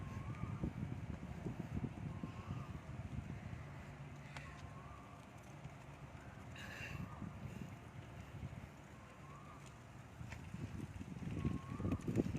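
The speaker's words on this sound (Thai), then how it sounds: "อ้ลมแรงด้วยนี่" Strong wind blowing outdoors during an exercise session, a steady broadband rush with buffeting gusts on the microphone that swell louder near the end.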